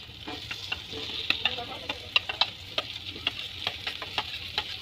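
Fried potatoes with powdered spices (salt, turmeric, coriander) stirred in a frying pan, a steady close sizzle broken by repeated scraping stirs and light taps of the spoon.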